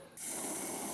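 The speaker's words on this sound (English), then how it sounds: "What's that sound? Hairspray? No, spray paint." A spray paint can bursts into a sudden, sustained close-up hiss that starts sharply and holds steady without talking.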